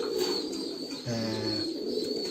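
Pigeons coo during feeding time at a loft of around 200 birds, one soft throaty coo standing out midway over a steady flock murmur and a thin high whine.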